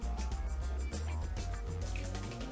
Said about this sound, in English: And I fill these up almost to the top.